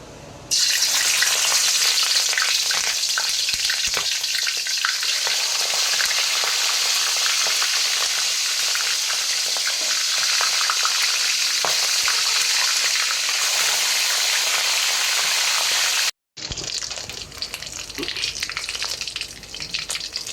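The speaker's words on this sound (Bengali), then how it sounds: "মুরগি ভাজার জন্য তেলটা গরম হয়ে গেছে, আমি এখন মুরগিগুলো ভেজে নেব।" Chicken pieces for a roast fry in hot oil with a loud, continuous, close crackling sizzle that cuts out briefly near the end and then resumes.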